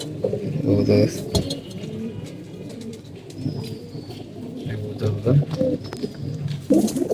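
Molting pigeons coo in low, throaty bursts close by, mixed with rustling and brief chirps while a person talks over them.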